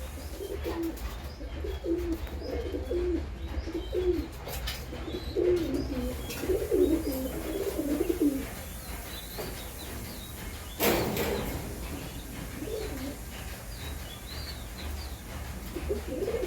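Several high-flying pigeons coo in low, repeated bursts through the first half, then a brief clatter, with quieter cooing continuing after.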